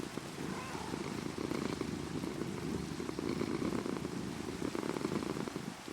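A cat purrs steadily in Minecraft, a low continuous rumbling purr held throughout with no break and no talking.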